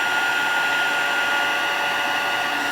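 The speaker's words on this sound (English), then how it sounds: "I can come in and just heat emboss" A handheld heat gun blows steadily for heat embossing clear powder on a small craft piece, giving an even, continuous whooshing roar with no breaks, close and loud.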